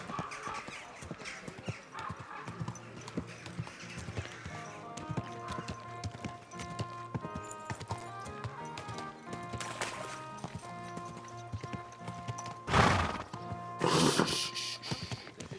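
Horse hooves clip-clop steadily in the medieval video game Kingdom Come: Deliverance 2, a rhythmic trotting gait over background music, with brief louder bursts near the end.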